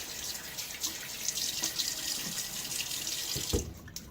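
Tap water runs steadily from a faucet to wet a face before shaving, giving a close, continuous splashing stream with a few sharper splashes as it ends.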